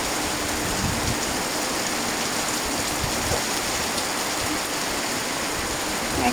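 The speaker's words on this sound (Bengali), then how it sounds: "দেখুন, বৃষ্টিটা আস্তে আস্তে অনেক বেড়ে গেল।" Heavy rain pours down in a dense, even hiss that stays steady and close throughout, with no voices.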